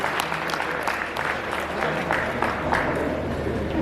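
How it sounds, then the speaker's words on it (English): Audience applause at a regional education forum held at a school, a steady round of clapping filling the room at moderate loudness with no voices over it. "Can we have a round of applause so that our energies go high before we start?"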